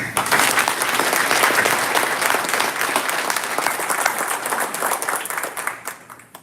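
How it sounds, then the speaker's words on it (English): Audience at a senior awards banquet breaks into sustained, dense applause, loud and even for several seconds before tapering off near the end. "please give him applause"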